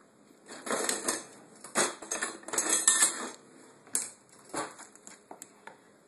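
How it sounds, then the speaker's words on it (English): Frozen blueberries being stirred into a thick chocolate cake batter made with coconut flour, giving a run of close, soft clattering scrapes and clicks in uneven bursts, with no talking. "I like to add frozen blueberries. Just mix those in."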